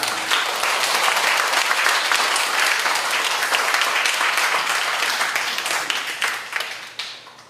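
Audience applause fills a church hall during a Baptist pastor's installation ceremony, a steady dense clapping that holds at full strength for several seconds and then thins out toward the end, with no voices over it.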